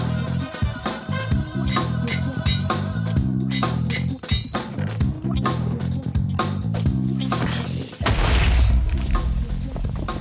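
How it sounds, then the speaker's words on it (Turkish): A loud, booming blast erupts around the eight-second mark amid busy Minecraft game audio full of thuds and crashes. "Burada bir şey patladı bu arada."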